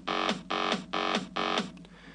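A kick drum and a pitch bass are played together in FL Studio, four punchy hits at an even pace, each booming thump sliding down in pitch, clean and fairly quiet.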